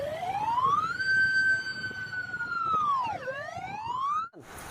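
A toy fire engine's electronic siren plays alone, a loud wailing tone that holds steady, dips, then sweeps back up before cutting off.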